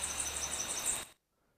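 A Tennessee warbler's two-part song, a rapid high-pitched series of thin repeated notes, delivered close and clear for about a second before stopping abruptly into silence.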